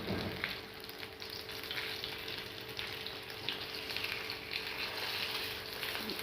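Potato chapli kababs fry in a pan, giving a steady, close sizzle and crackle of hot oil that runs without a break from start to finish.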